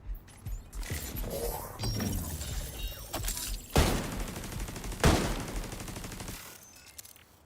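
Gunfire in the shooter The Division 2 rings out as sharp, loud rifle shots, two standing out clearly, amid mechanical clatter and fainter shooting.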